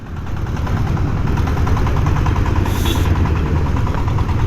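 A Yamaha R15 V3 motorcycle engine idles steadily up close, with a continuous low rumble and mechanical vibration and no talking.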